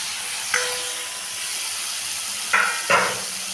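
Parshe fish coated in salt and turmeric sizzles as it is added to frying spice paste with slit green chillies, a steady close hiss broken by a few sharp clatters.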